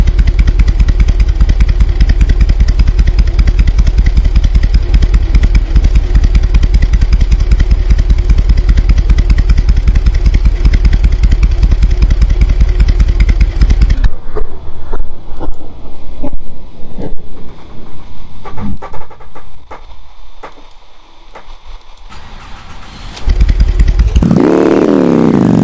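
Monster truck engine in a video game roars loud and continuous with heavy clattering revs, then cuts to quieter rumbles and scattered knocks before a brief loud rev returns at the end.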